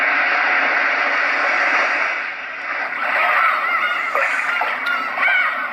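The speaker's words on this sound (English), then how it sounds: "more of a big wave sound." Big ocean waves from a white noise sound machine: a continuous roaring wash of surf that dips briefly, then surges back, steady and close with no talk.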